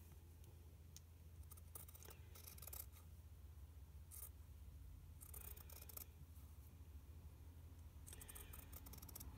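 Fabric scissors trim a sewn seam on tutu knickers, faint snipping in a few separate bursts over a quiet room background.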